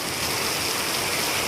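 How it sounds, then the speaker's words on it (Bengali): Heavy rain pours down steadily and loudly, a dense continuous wash of water with no voices over it. "কিন্তু এই বৃষ্টি যেন কমছেই না, অনেক বৃষ্টি হলো আজকে।"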